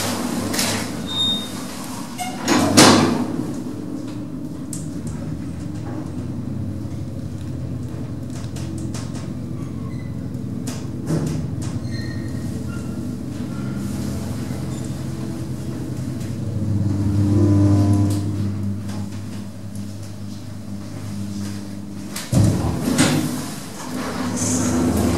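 An old lift motor in Frankfurt hums steadily while doors slide and clunk open and shut a few times, with mechanical rattles and a rising whir midway.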